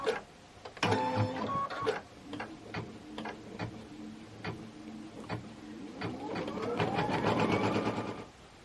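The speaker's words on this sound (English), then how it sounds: "So I am going to do my tack down stitch and put it on there and let it stitch." An embroidery sewing machine runs a tack-down stitch on felt, a close, loud mechanical rattle of rapid needle strokes with short pauses between bursts and a whirring hum near the end.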